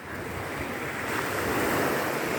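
Beach surf rolls in steadily at Anse Source d'Argent in the Seychelles, a continuous broad wash of breaking waves that builds slightly louder toward the end, with some wind noise on the microphone and no voices.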